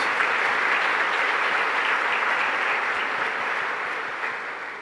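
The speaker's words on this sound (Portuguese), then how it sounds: "Vamos acolher nossos visitantes com uma salva de palmas?" A church congregation at Paróquia dos Sagrados Corações applauds to welcome visitors during Sunday Mass, a steady, dense wash of clapping from a large room that gradually fades.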